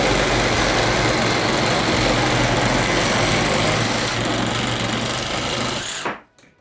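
A DINSHARE 20V cordless reciprocating saw cuts through wood with a loud, steady buzzing rasp close by that runs for about six seconds before cutting off abruptly into silence.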